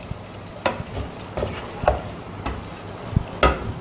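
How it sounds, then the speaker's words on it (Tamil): A spoon stirs bitter gourd sambar masala in a pan, producing soft scraping strokes and clicks of the spoon against the pan about once every half second over a quiet sizzle. "அதனால் நம்ம போட்டு அதை நல்லா கிளறிடலாம்."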